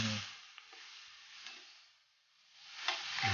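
Pork fat sizzling in a pan to render oil for Filipino dinuguan, a close hiss that fades down and swells back, with light scraping stirs near the start and end.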